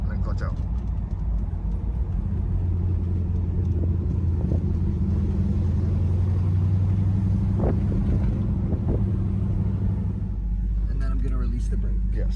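Big block four-speed car engine rumbling steadily as it speeds up through the gears, a low continuous drone with wind noise and a voice talking over it.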